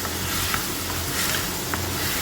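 Spices tempering in hot oil for drumstick chutney, crackling and sizzling, a dense steady hiss with scattered small pops, close up and continuous.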